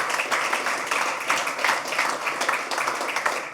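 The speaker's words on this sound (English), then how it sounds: "give Rashad a round of applause." A crowd claps steadily for athlete Rashad Owens, producing a dense, continuous round of applause that stays even throughout with no talking above it.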